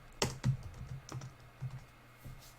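Keys tapped on a computer keyboard while a name is entered in a programming exercise: a few sparse, irregular clicks at close range, quiet, with no talking.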